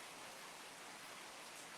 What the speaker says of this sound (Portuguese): É só o barulhinho da chuva mesmo.